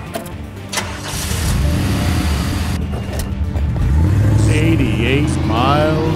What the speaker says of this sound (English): The car.